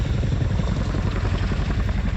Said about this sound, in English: monitoring behind the aircraft as she comes into land